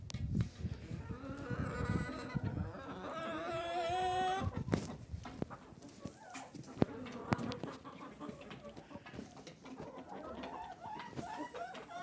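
Hens cluck around a henhouse on an evening round, with close squawking and rising calls early, then scattered soft clucks, buzzing insects and rustling at moderate level.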